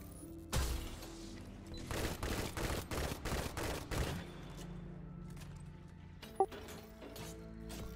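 Enemy gunfire in the video game Destiny 2 comes as an opening shot and then a rapid burst of repeated shots, fairly loud over a steady game background hum, with a sharp blip near the end.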